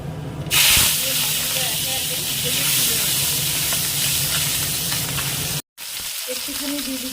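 Tangra fish frying in hot oil with tempering spices and dried red chilli, a steady loud sizzle and hiss running continuously, briefly cutting out near the end before resuming.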